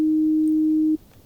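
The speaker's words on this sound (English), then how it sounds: "the sine wave, which looks like this and sounds like this" A pure synthesized sine wave tone sustained steadily at one pitch for about a second, loud and alone, then cutting off abruptly into near silence.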